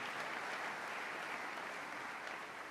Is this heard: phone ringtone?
no